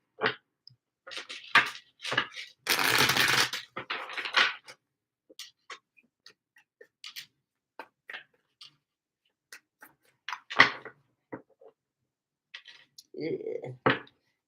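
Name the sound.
shuffling tarot cards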